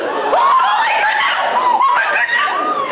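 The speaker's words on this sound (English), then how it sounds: "I'm sorry I screamed." Someone screams in shock and distress while watching black smoke pour from huge holes in the upper floors of a burning building during the 9/11 attacks. The high, wavering vocal cries carry on loudly and continuously for the whole stretch.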